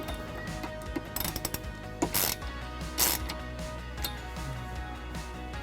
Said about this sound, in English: And then we'll tighten them using a 10mm socket.